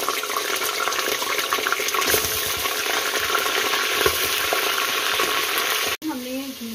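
Onions frying in ghee for haleem, a dense loud sizzle with stirring scrapes that cuts off abruptly near the end, leaving a brief quieter tail with a faint tonal hum.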